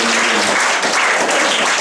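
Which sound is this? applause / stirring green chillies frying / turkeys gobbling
applause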